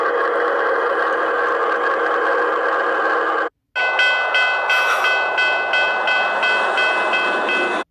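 A toy-style train from a kids' train game rumbles along steadily and loudly, cuts out for a moment, then resumes with bright whistle-like tones riding over the running noise.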